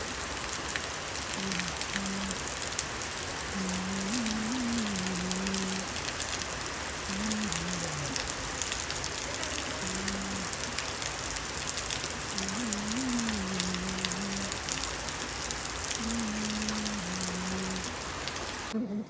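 Steady, dense rain falls at a rural farmhouse, a continuous close hiss of drops on surfaces, with a faint tonal animal-like call recurring in the background.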